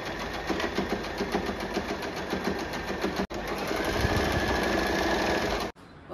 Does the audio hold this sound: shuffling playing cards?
no